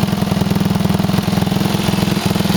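A 1978 Suzuki DR370C motorcycle engine runs steadily nearby, with a loud, even thumping idle. It has a carburettor fault, and the beat barely changes through the whole stretch.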